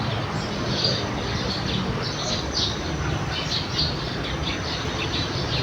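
Birds call and chirp in repeated faint twitters over a steady outdoor wash of wind or ambient rumble, distant rather than close.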